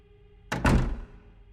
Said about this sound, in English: swinging the door shut